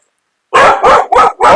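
An adopted street dog barks four times in a quick, loud burst close by, after a moment of silence.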